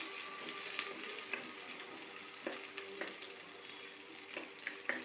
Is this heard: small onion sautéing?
yes